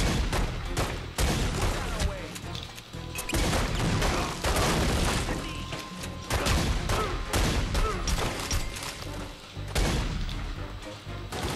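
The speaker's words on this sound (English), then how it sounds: "Shotgun has pretty good range in this game as well." Rapid shotgun blasts and heavy gunfire from a Godfather 2 video game shootout, loud dense bursts repeating throughout with booming impacts and little pause between shots.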